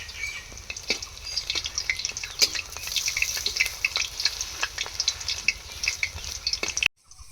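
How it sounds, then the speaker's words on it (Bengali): Bora fritters made with pui shak (Malabar spinach) leaves frying in hot oil, a steady bubbling sizzle with scattered crackles and pops, close and moderately loud, no talking, ending abruptly in silence. "এগুলোকে এইভাবে চেপে দেবো তাহলে বড়াটার শেপগুলো একটু পাতলা হয়ে যাবে আর ভেতরটা পর্যন্ত ভালোভাবে ভাজা হবে"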